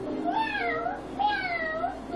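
A person imitates a cat, giving two drawn-out, whiny meows in a row, close and clear.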